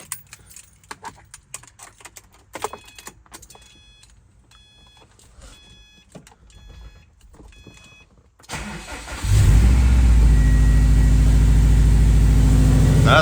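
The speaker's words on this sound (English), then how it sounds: "We're gonna do a first start in a moment with this new exhaust and see how it sounds" Keys jingle and a door and windows click quietly before a 2012 Subaru STI with a new downpipe and exhaust cranks and fires, settling into a loud, steady, rumbling idle close by.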